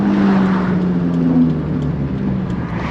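A 2JZ-swapped BMW E30 engine revs on a downshift, a steady loud drone with rising and falling harmonics, heard from inside the car with no talking.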